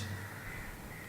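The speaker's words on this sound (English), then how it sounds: "The sound of the birds," A crow caws outdoors, faint and distant, against a steady hiss of background noise with no voices.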